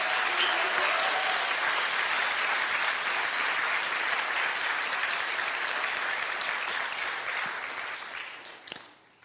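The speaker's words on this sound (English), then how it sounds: "Let's have a hand for that." A conference audience in Los Angeles applauds in a dense, sustained wash of clapping that holds steady for most of the stretch before thinning out and fading near the end.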